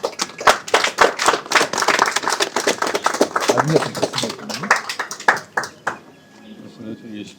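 An audience at a Russian parliamentary delegation's address applauds with dense, close rhythmic clapping that continues for several seconds before tapering off, a voice briefly heard beneath it.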